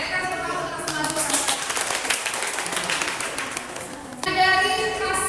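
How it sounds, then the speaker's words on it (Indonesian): An audience in a classroom or discussion session applauds for several seconds, with a crowd of hands clapping in a dense wash that fades out as a voice resumes speaking. "kita kasih tepuk tangan untuk semua dulu"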